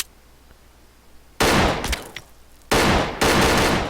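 Sharp bursts of gunfire in Arma 3 with the Ravage mod erupt after a quiet stretch: one loud volley, a brief pause, then two more close, abrupt bursts in quick succession.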